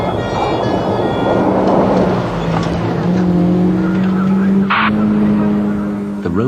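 A stolen Rover car speeds loudly during a police chase in treacherous conditions, its engine roaring steadily while tyres squeal and skid in a long rising whine near the end.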